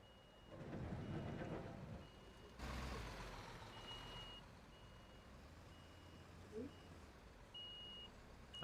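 A construction truck pulls in on a building site with a faint, steady beeping as it backs up. Low engine rumble and bursts of heavy noise sit underneath, and a voice is heard briefly.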